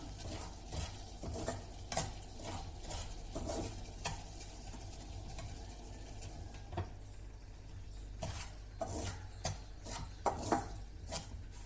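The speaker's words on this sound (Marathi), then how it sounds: "रवा घेतला आहे आणि मंद आचेवर छान भाजून घेऊया" Semolina dry-roasting in a pan over low heat for mango sheera, with a steady soft scraping as a spoon stirs it and sharper clicks and taps of the utensil against the pan throughout.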